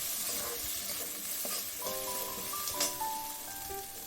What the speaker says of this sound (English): After some time, I'll remove the cover, stir it once again,